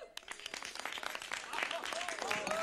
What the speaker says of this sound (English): Let's give a big round of applause to the luscious Bobby Dillon.